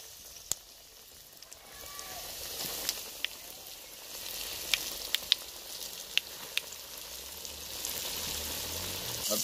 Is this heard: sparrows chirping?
no